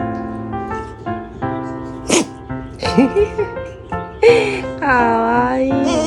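A corgi puppy sneezes once, a short bright burst standing out amid cheerful speech and music.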